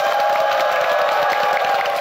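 A television studio audience applauds and cheers to welcome a lecturer onto the stage, producing a continuous, close wash of clapping with some crowd noise.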